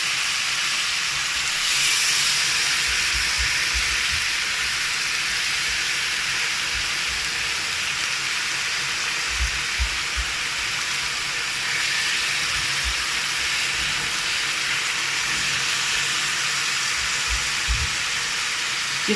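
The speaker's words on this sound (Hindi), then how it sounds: "इस तरीके से हम इनको कुक कर लेंगे चिकन के पीसेस को।" Chicken pieces for a club sandwich cooking in a pan, a steady broad sizzling hiss running throughout with faint low thumps, no talk.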